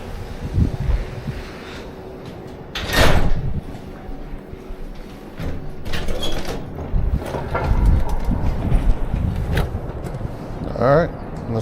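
An elevator's doors slide open at street level with a brief whoosh, followed by a soft chime near the end. Low room noise and people talking fill the background.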